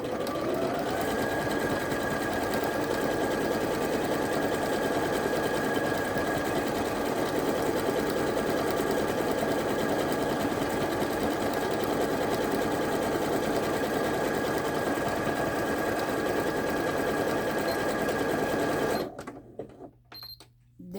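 A Janome MOD 200 sewing machine stitches steadily for about nineteen seconds, a close, continuous whirring hum with a faint high whine, then stops abruptly, leaving a few soft clicks.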